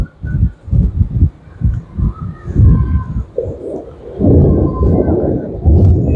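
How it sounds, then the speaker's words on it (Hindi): Loud thunder rolls from storm clouds over Jhelum city in a long, deep rumble that swells in waves and keeps growling without a break, with no talk over it. "बहुत ज़ोर का बादल गरजा है इस तरफ से"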